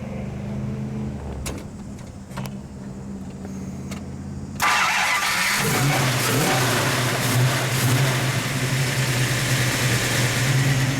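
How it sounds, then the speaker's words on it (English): A 1970 Dodge Challenger R/T's 383 V8 cranks and catches partway through, then settles into a loud, loping cammed idle that rumbles steadily to the end. "Brian, would you be kind enough to start her, please, so we can get a little exhaust note as well?"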